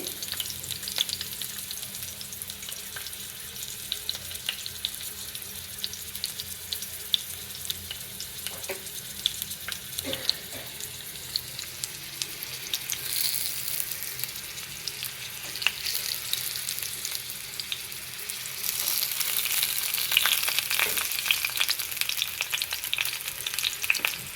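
Stuffed beets and tomatoes fry in hot oil with a continuous crackling sizzle, quiet at first and growing louder and denser toward the end.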